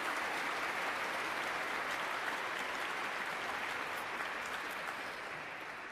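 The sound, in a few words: graduates applauding at baccalaureate ceremony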